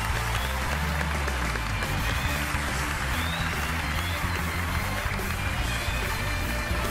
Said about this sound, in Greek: θέλω πρώτα να δώσουμε καταρχάς το αποχαιρετιστήριο χειροκρότημα στον Οδυσσέα